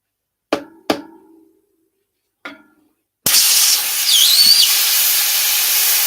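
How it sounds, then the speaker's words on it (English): Air hisses steadily out from under the rim sticker of a Surly Ogre bicycle wheel, a loud continuous rush close up, preceded by a few sharp knocks on the rim. "I can hear and feel air coming out underneath the sticker."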